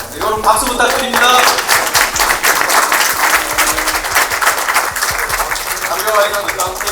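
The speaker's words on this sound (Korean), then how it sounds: "여러분 박수 부탁드립니다" Audience applauding at the 17th Im Jong-guk Award ceremony, dense steady clapping from a hall crowd running the whole stretch, with a voice speaking over it near the start and end.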